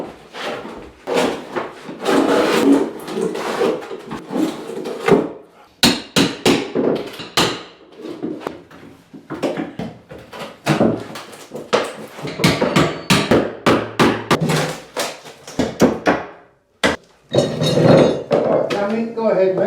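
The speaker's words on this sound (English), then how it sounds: "What I'll do is take up another floorboard, one of these short ones." An electrician prises up a short floorboard during a ring circuit extension, producing a run of close, uneven wooden knocks, scrapes and creaks with brief pauses between bursts.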